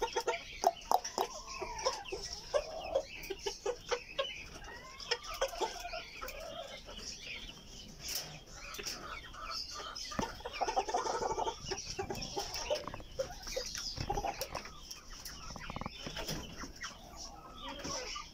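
Several backyard chickens, including US Silkies, cluck steadily in a busy flock at feeding, with bursty, overlapping calls and occasional wing flutters close by.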